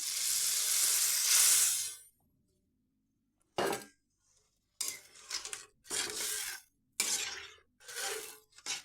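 Water poured into hot frying spices for a Bengali fish curry gives a loud, close sizzle that hisses for about two seconds and cuts off. Shorter bursts of scraping and stirring follow after a pause.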